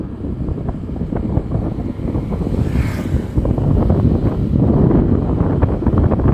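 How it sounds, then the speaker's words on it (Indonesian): Strong wind on a hilltop buffets the microphone in a loud, continuous roar and rumble that gusts harder toward the end; no one speaks. "Anginnya begitu sangat kuat karena berada di puncak ini sahabatku."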